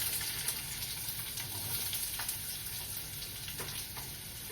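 Onion frying in a pan with cumin, mustard seeds and curry leaves, giving a steady, moderate sizzle and hiss throughout with a few soft stirring taps and no voices.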